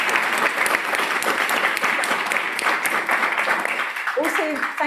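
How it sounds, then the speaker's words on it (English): A lecture audience gives a warm round of applause, many hands clapping in a full, even roar that holds for several seconds before a speaker's voice comes in at the end. "A round of applause for Shida"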